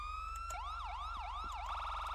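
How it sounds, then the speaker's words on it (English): A police siren in a video game wails in smooth rising and falling sweeps, loud and steady, repeating several times over a constant low engine hum with no talking. "and then press Alt for your siren"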